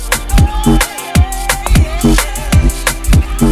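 An electronic music track plays loud and upfront, with punchy kick drums on a steady beat, a deep sustained bass line and bright synth hits and melodic lines above.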